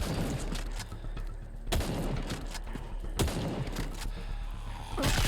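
Shotgun blasts from the zombie shooter game Into The Dead 2: loud, booming reports repeat every second or two over a dense, rumbling game soundscape.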